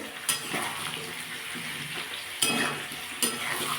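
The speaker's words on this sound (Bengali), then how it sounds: "আমি এর মধ্যে এবার ক্যাপসিকামগুলো দিয়ে একটু ভেজে নেবো বেশি ভাজবো না সামান্য ভাজবো" Capsicum sizzles in a pan with already-fried potatoes and onions for a spicy fish curry, a continuous close hiss broken by three sharp metallic spatula knocks against the pan.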